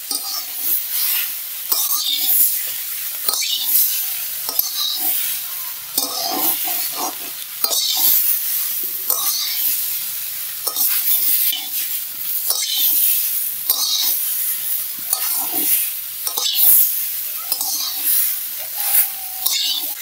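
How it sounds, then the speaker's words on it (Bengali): Chalta (elephant apple) pieces fry in a pan over a low flame for a pickle: a steady, close sizzle runs throughout, broken by repeated scraping stirs, with no talking. "চালতাটা ভাজা হয়েছে, খুব সুন্দর গন্ধ বাড়াতে।"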